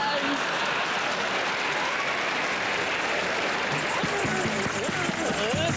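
Hands clap in unison from a group of performers and audience during a live improvised comedy television show, a brief steady patter of applause under ongoing talk.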